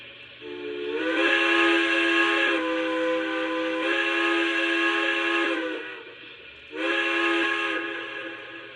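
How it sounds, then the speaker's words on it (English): The whistle of an O scale PRR K4s 1361 model steam locomotive with PS3 sound blows in three sustained chords, each lasting a couple of seconds, with a short gap before the final blast and a faint reverb tail. "So you also get the playable whistle right here."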